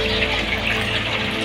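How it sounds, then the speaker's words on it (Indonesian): Water streams steadily from a source into a koi pond holding small tosai and jumbo koi, feeding an overflow pipe with a regulated nonstop drip; a continuous close gushing wash with no talk. "air mengalir dari air sumber masuk ke kolam dan terbuang ke saluran pipa overflow"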